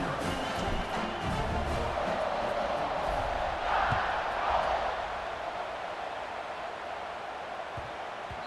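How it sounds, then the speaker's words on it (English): Stadium crowd in the College Football 26 video game, a continuous loud roaring buzz from a packed football stadium with a swell partway through, with a commentator talking over it. "this crowd is buzzing after that last score"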